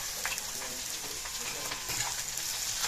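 Carrot and pea curry with kasuri methi and fresh coriander being stirred in a pan, a continuous hiss of frying with scraping and light clattering strokes throughout.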